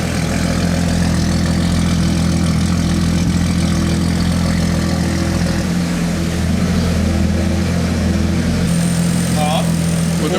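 A Nissan R32 GTR engine running with its turbo spinning, a steady loud close drone with constant low rumble and a faint rising whine near the end.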